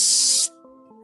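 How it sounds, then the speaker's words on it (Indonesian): A can of AXE aerosol perfume gives a short, loud, close hiss as it sprays under an armpit, then cuts off into near silence with a faint low hum. "menyelipkan kaleng minyak wangi itu di sebelah ketiak kanannya. Dan sebelum aku sempat bertindak, tiba-tiba terdengar bunyi psst, psst."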